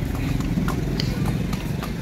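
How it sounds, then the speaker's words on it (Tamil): Horse cart hooves clip-clop on a street in Agra, steady irregular knocks over a low rumbling road and engine background, moderately close. "நாங்க குதிரை வண்டியில போறோம்."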